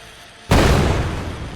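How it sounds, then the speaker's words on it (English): A sudden loud burst from a flash grenade in an Unreal Engine 5.3 game, a sharp onset that swells into a sustained, dense roar and slowly fades, with no talk over it. "And then we have our flash grenade, which I will demonstrate on myself."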